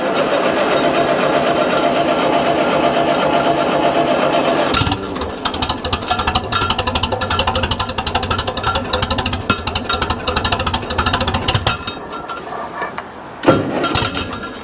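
A Ferguson T20 tractor engine is cranked and fires up after ten months unused, a steady grinding crank giving way to a rough, rapid knocking idle, loud and close, with a brief surge near the end.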